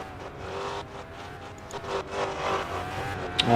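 Formula Micro race cars at Toledo Speedway, a continuous engine drone that swells louder toward the end as cars approach, heard from trackside at moderate distance without commentary.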